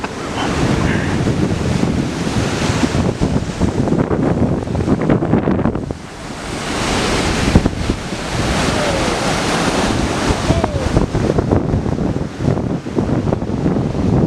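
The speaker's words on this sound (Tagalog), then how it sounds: "mini lagoon kung saan doon may experience mo yung paghampas ng mga malalaking alon" Big waves crash and roar continuously at a lagoon in Salcedo, Eastern Samar, loud and close, with heavy wind buffeting the microphone and a brief dip in the surge midway.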